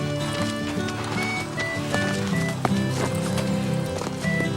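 Steady clip-clop of horse hooves at a walking pace, fairly close, with a bed of music running underneath throughout.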